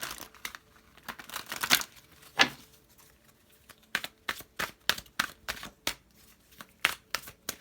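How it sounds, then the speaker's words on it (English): Tarot cards are shuffled up close: a crinkly riffle, then a series of crisp, evenly spaced snaps and taps as the deck is worked through. "let me give it one more good shuffle"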